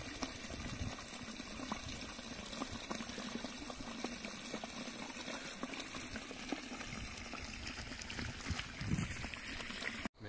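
Water pumped by a Texmo Aquatex pump gushes steadily into a potato field, a constant rushing, bubbling wash heard close by and uninterrupted for about ten seconds.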